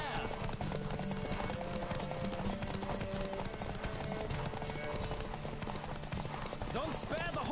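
Rapid clip-clop of galloping hooves in The Witcher 3 video game, fast and rhythmic, with a horse whinny near the end over a busy background.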